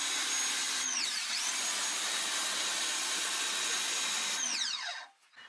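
A pressure washer with a whirling nozzle blasts moss and mud off an outdoor surface, a steady close roar with a faint whine that runs unbroken before cutting off at the end.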